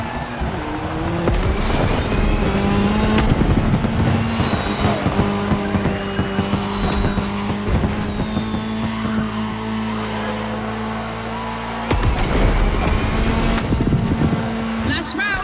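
Racing cars in The Crew Motorfest, among them a Ford Puma Hybrid Rally 1 electrified rally car, with loud sustained engine whine and screeching tire skids throughout, plus a commentator's voice talking over the action.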